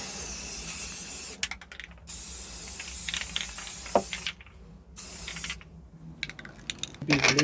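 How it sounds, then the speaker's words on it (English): Rust-Oleum sprayed from a can over bolts on a modern wood planter, heard as about three short, close hissing bursts with quieter handling noise between them. "I'm going to take a little bit of this Rust-Oleum and just spray over these bolts"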